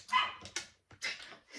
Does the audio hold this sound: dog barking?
yes